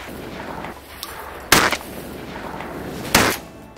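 Two loud, sharp shotgun blasts from an Escort shotgun, fired while duck hunting outdoors, about a second and a half apart, each with a brief decaying tail over a low steady background.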